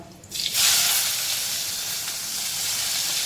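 Chopped onion and a pinch of asafoetida dropped into hot oil with browned garlic for an egg curry, bursting into a loud hiss after a brief moment, then a steady close sizzle.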